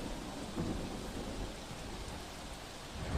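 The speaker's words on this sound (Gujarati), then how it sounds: "આજે સમગ્ર દક્ષિણ ગુજરાતમાં ભારે વરસાદ થયો છે" Heavy rain pours steadily while low thunder rumbles underneath in Surat, South Gujarat. There are no voices.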